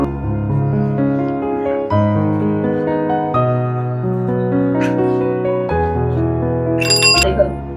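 A bell rings with rich sustained tones that shift in pitch, loud and close, with a brief higher jingle near the end.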